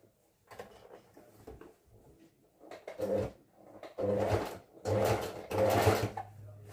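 A domestic sewing machine stitches fabric beside elastic in bursts, stopping and starting with louder runs toward the end, close by with no talk.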